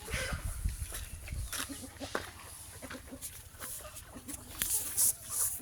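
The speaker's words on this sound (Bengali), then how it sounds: "এটা কাদাকনাথ এই একটা কাদাকনাথ মুরগি" Kadaknath chickens cluck in short, scattered bursts close by among other free-ranging farm birds, with occasional rustling and a louder squawk near the end.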